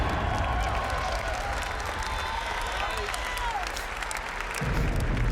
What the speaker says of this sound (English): Oh, the crowd's loving it.